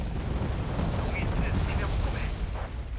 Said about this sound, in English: they dropped napalm right on top of the RCLs there near the bridge